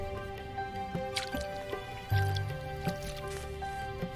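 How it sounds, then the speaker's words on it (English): Stream water runs and drips while a wound is rinsed in a video game, with soft wet squishes and splashes over a steady backdrop of musical tones. "First, let's rinse the wound at the stream"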